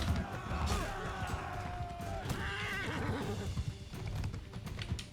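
Horses neigh and whinny amid clopping hooves on a medieval battlefield in the video game Mount & Blade II: Bannerlord, with loud, busy combat noise throughout.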